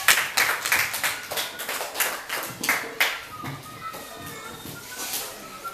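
A class applauds at a school debate as a team captain is introduced, with sharp scattered claps at first that thin out and fade toward the end.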